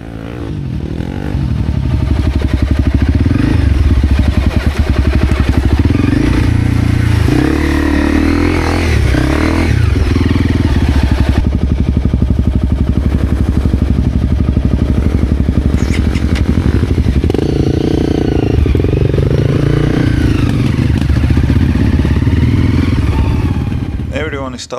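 Motorcycle engine running steadily through a day's ride, a loud continuous drone with shifting revs, clatter and road noise, close and sustained with wind buffeting throughout.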